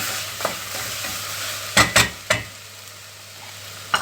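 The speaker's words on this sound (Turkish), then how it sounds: "Şöyle bir kavuralım" Potato filling for hand-rolled börek sautés in a pan with salt and chili flakes, a low steady sizzle under a few sharp scraping stirs clustered near the middle, then quieter frying with one last scrape.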